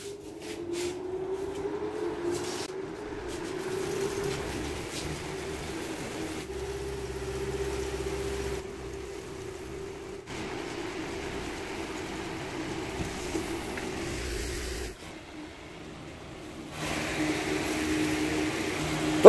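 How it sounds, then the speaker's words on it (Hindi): An electric fan runs steadily in a village yard while wheat is winnowed, a constant droning hum with a low tonal whine that shifts slightly, with faint rustling and clattering of grain and no talking. "ये पंखा हमने चला लिया है"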